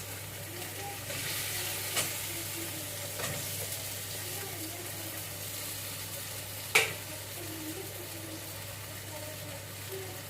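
Fried potatoes and okra going into a hot pan for a raw-mango fish sour curry, with a steady background sizzle, soft stirring scrapes and a sharp clack near the end.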